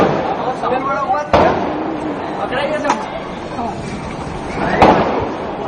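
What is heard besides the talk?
Vejalpur firecrackers going off during Diwali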